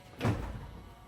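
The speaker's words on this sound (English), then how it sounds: "we're gonna crack the door here and let it come down" A door on a 2014-2018 GMC Sierra or Chevrolet Silverado pickup is cracked open during a power running board install, giving one soft, close thunk followed by a brief low rumble that fades quickly.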